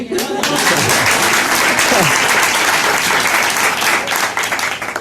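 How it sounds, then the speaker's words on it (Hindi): Loud, sustained clapping from a congregation at a Sunday church service, a dense wash of hands that continues steadily from start to finish. "सारे बजाओ ताली।"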